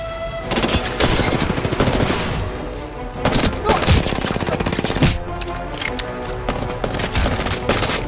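Rapid bursts of gunfire from a P90-style burst-fire weapon in Apex Legends, loud and dense, with short pauses between volleys across the whole stretch.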